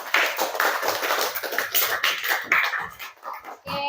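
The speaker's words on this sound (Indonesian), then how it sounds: "tepuk tangan dulu untuk temannya" A classroom of students applauds their classmates with a burst of fairly close clapping. The claps come in uneven patters and fade toward the end.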